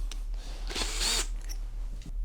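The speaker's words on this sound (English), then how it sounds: "This is a metal drill." A handheld metal drill runs in a short close burst, a loud whirring whine that rises and stops within about half a second, with faint handling clicks before and after.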